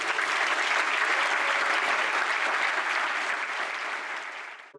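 Audience applauding at a university honors convocation, a sustained, dense wash of clapping from a large crowd that holds steady and then tapers off at the end.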